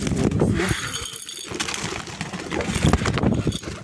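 Pigeons gather at a feeding spot, a busy, fluttering mix of close cooing, wing flaps and light pecking clinks that runs continuously with no one speaking.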